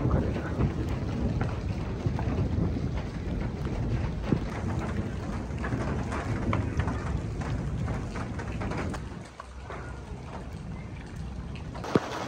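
Hailstones pelt down during a violent thunderstorm in Pakistan, a dense, steady drumming roar with scattered sharp impacts that dips briefly before resuming, heard without any speech.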